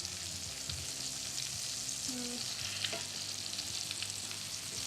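Veal cutlets fry in a pan as their crust turns golden and crispy, a continuous crackling sizzle at moderate level with a few small clinks, and no talking.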